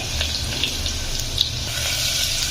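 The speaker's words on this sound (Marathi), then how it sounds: "आता हे सर्व आपल्याला छान एक मिनिटासाठी आपल्याला फ्राय करून घ्यायचं आहे" Spices and ginger-garlic paste fry in a pan for chicken biryani, giving a steady, close hiss and sizzle with a few small pops and no voices.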